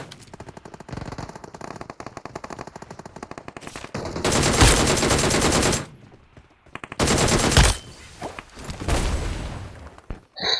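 Automatic gunfire in the mobile battle royale game BGMI: rapid rattling bursts, a long loud volley, a short pause, then more heavy bursts and scattered shots, with no voices.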